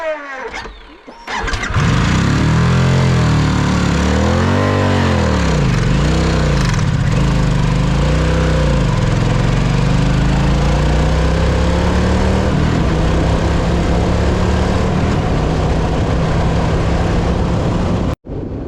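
Harley-Davidson Pan America motorcycle with an engine fault, ridden steadily in 5th gear with revs held up: a loud, close engine drone that surges and dips in waves early on, then settles into a sustained, even roar.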